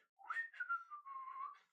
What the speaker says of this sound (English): Just like nonchalant whistling. That's what this is.